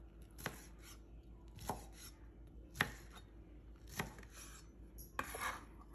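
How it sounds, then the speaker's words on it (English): A knife chops a pork chop into strips on a board in five sharp, evenly spaced strikes, close and clear, with quiet pauses between cuts. "we will start by chopping our pork chop into strips"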